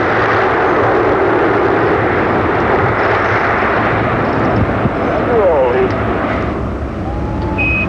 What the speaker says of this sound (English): Liftoff of Atlantis and the 6-man crew on a Department of Defense flight.